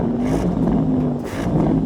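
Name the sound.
Porsche Panamera engine revving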